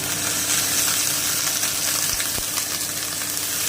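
Poppy seed paste spooned into hot oil in a pan crackles with a steady, close, fairly loud frying hiss that holds evenly, broken by a couple of brief knocks; no voices.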